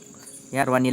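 Insects chirp in a steady high-pitched drone, joined midway by a voice talking loudly over them.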